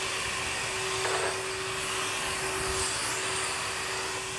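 A vacuum cleaner runs steadily during a suction test, giving a loud, constant whine and rushing airflow with no speech.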